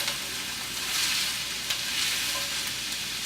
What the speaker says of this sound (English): I'm going to saute them for about a few minutes until the onions become translucent